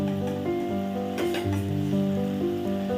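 Fried potatoes and pointed gourd go into hot spiced oil in a pan for a vegetarian aloo potol kalia, giving a steady, close, loud sizzle with light stirring clinks and no voices.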